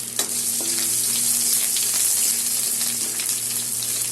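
Chopped ginger frying in oil for jackfruit seed dal, a loud, close, continuous sizzle with a brief clatter at the start and faint stirring scrapes, over a low steady hum.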